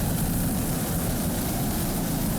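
Helicopter flying over an offshore powerboat race in Miami, a steady and loud broadband rotor and engine roar that holds constant throughout with no voices.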